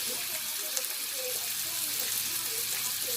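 Bacon strips fry in a pan while breakfast is made, a steady close hiss and crackle running the whole time with a faint running-water or stirring texture underneath.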